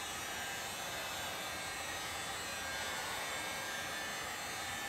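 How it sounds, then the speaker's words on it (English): A heat gun warms the adhesive overlay on a Frigidaire gas range control board, giving a steady, close, continuous blowing whoosh with no breaks. "Just want to heat up the adhesive backing, and then you can easily pull it up off of the control board."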